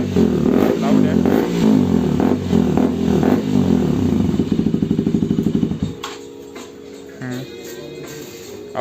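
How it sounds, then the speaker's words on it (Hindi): A KTM RC200 motorcycle fitted with an aftermarket exhaust sounds a loud, close, throbbing idle with pulsing revs for several seconds, then the engine note cuts away to a quieter background. "ये थी एग्जॉस्ट की आवाज़ जो बहुत ही ज़्यादा अच्छी आ रही है, लाउड है।"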